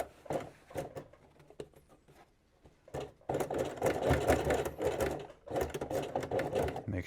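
A sewing machine stitches a seam on a denim workwear jacket, running in short stop-start bursts with ticking needle beats, then longer steady runs close by.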